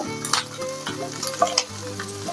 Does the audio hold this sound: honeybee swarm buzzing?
no